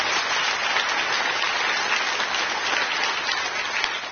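A studio audience at a Bill Maher show breaking into applause, a dense, loud and even wash of clapping that fills the whole stretch without a voice.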